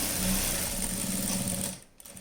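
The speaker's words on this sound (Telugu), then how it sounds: "ఇటు సైడే కుట్టుకోండి." A sewing machine stitches a night dress in a steady, loud, fast-running whir that stops abruptly near the end, leaving near silence.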